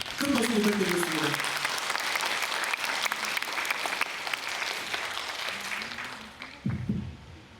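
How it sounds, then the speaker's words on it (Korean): Warm applause from a seated lecture audience greets a former cultural heritage administrator before his humanities talk, steady, dense clapping filling the hall for several seconds before fading, with a brief voice near the end. "큰 박수 부탁드리겠습니다"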